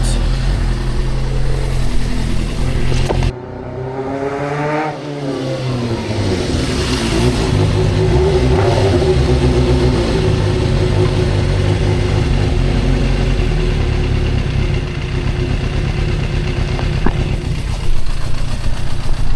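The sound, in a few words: Suzuki GSX-R 400 motorcycle engine revving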